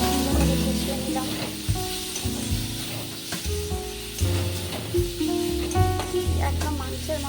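Mushrooms cooked with cumin paste, turmeric and salt sizzle loudly in a pan, a steady close frying hiss broken by stirring scrapes and occasional knocks of the utensil.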